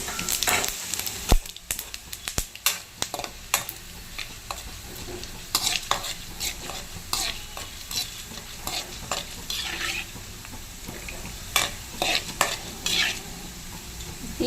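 Coriander, cumin and fenugreek seeds fry in a pan, giving a steady sizzle broken by repeated sharp scraping and stirring clicks at close range, with no talking.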